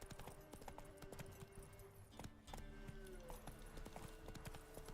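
Hooves of Roach, a horse in the video game The Witcher 3, clip-clop in a steady running gallop, close and continuous, with game ambience and a faint voice in the background.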